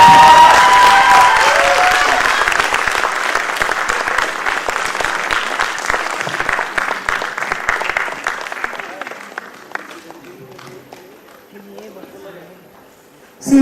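Dense applause fills the hall at a foundation-day long service award ceremony, loud and sustained before thinning into scattered claps and fading out.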